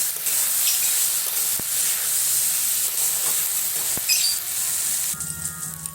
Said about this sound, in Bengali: ওই জন্য একটু চালটা ভেজে নিই